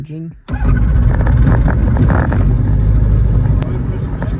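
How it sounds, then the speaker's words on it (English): Shark.aero Shark light airplane engine starting: a brief starter whine, then the engine catches and settles into a loud, close, steady rumbling run. "Starting engine."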